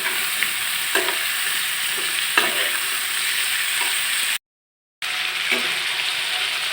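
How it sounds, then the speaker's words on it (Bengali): Pumpkin stir-fries with spices and salt in a pan, with no water added. A loud, continuous sizzle runs under scraping stirs and a few sharp clicks, broken once by a brief silent gap. "এখন এটাকে মশলার সাথে একসাথে ভাজা ভাজা করে নেব"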